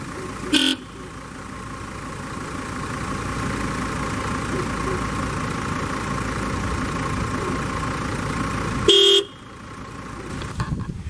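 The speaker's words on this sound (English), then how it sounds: "you can definitely tell that the original horn has a lower, raspier sound than the higher horn" Two short honks of a car horn, one stock Hella horn and one Hella Sharp Tone M26S, sound loud and close, each under a second long, with a faint engine idling steadily in between.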